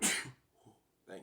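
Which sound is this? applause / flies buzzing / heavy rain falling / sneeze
sneeze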